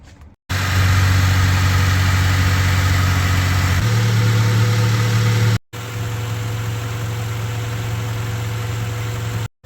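A Honda Del Sol idles steadily outside a garage with its radiator fan unplugged while the cooling system is burped. The low engine hum is loud and continuous, cuts out briefly near the end, then resumes at a slightly different pitch.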